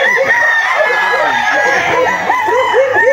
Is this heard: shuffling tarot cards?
no